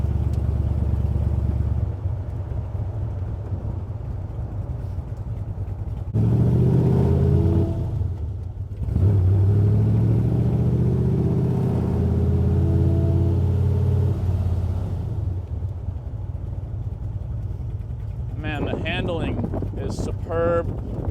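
A 1965 Shelby Cobra tribute roadster rumbles along with heavy wind noise, its engine note dropping and rising as it shifts up into third gear, someone talking over the drive.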